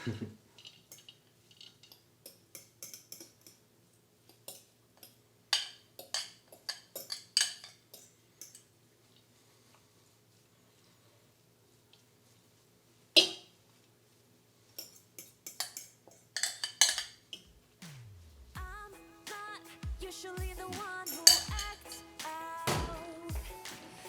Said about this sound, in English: let's get a big bowl